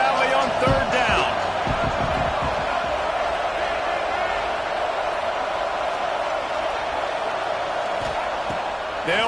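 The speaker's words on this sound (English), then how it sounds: "Here comes the noise from this big crowd in Happy Valley on third down." A big football stadium crowd in Happy Valley roars steadily on third down, a dense, loud wash of noise that holds for the whole stretch, with brief thuds and shouts near the start.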